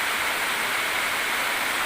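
Heavy rain pours down steadily in a flood-hit coastal area, a dense, continuous hiss with no breaks and no voices.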